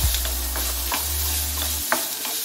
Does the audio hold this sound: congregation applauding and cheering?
no